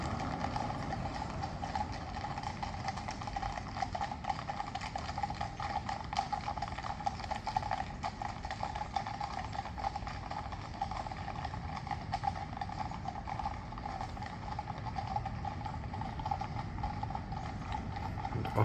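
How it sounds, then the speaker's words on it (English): Well-drilled horses clip-clopping along a London street near Buckingham Palace and the Queen Victoria Memorial, a dense, continuous patter of many hooves with clattering and rolling mechanical noise, steady and moderately loud throughout. "Beautiful horses."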